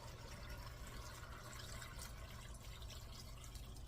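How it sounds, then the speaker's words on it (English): Beef broth pours into a cooking pot for cabbage soup, a continuous soft splashing, gurgling stream of liquid heard close and alone. "Start pouring."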